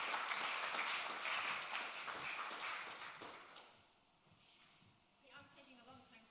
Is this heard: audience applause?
yes